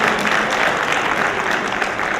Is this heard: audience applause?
yes